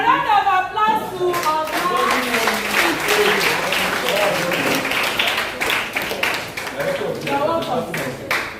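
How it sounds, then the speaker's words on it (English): Audience applause at a community symposium on drug abuse prevention, a burst of many hands clapping that swells and continues for several seconds while someone speaks over it. "A round of applause to"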